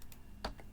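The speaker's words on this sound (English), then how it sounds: "if you click once on that and hit the delete key" A single key press on a computer keyboard, a faint sharp click with a couple of softer taps around it, during vector illustration work in Illustrator.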